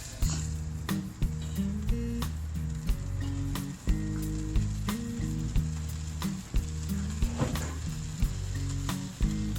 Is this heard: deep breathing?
no